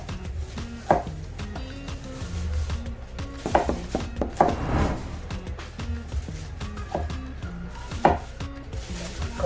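A knife chops vegetables on a cutting board for Korean soy sauce pickle (jangajji), a steady run of loud, close, rhythmic strikes with no talking.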